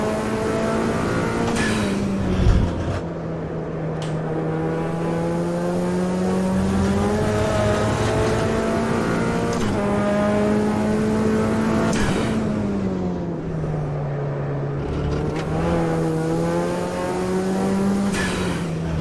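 A BMW X5 engine revving under throttle from inside the car, a loud sustained drone rising and falling in pitch through gear changes, with a thump early on.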